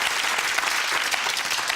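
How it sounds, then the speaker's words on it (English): A studio audience at a UK television game show applauds steadily, a dense, even wash of many hands clapping at close range, sustained without break and with no talk over it. "Bit of a round of applause there."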